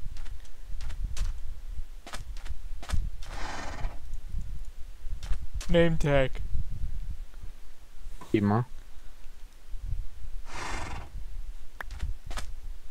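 Horse neighs and whinnies sound twice in Minecraft, each a sharp, close call standing out against soft clip-clopping hooves and scattered clicks, while someone talks briefly in between.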